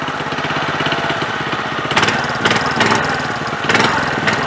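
A D150 riding lawn mower's small gas engine runs steadily at close range, a loud chugging drone with a few brief surges in level, and no talking.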